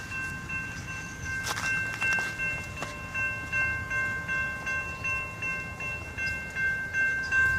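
An electronic bell at an abandoned railroad crossing rings with steady, evenly spaced metallic tones, sustained and fairly faint against outdoor background noise, with no talking.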